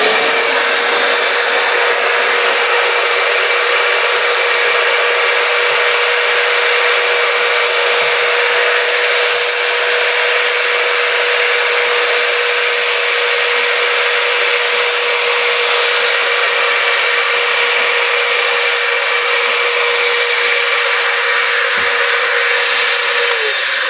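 A dust-collection vacuum fitted with a Dust Stopper separator roars steadily and loudly while picking up dust, a continuous close whine with no pauses.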